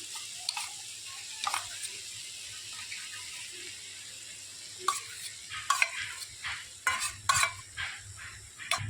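Soaked semolina is stirred into grated potato in a pan, soft quiet scraping at first, then quicker, louder clinks and scrapes of the spoon over a faint background hum.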